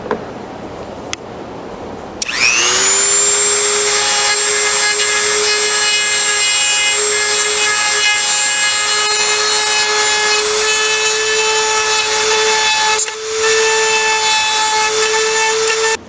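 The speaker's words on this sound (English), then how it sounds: "I'm actually using a Dremel tool to fine tune this thing and walk this, this plate in there" A Dremel rotary tool fine-tunes a mortise in a wooden gunstock to fit a plate, spinning up after a brief pause into a loud, steady high-pitched whine that holds for about fourteen seconds with only a slight dip near the end.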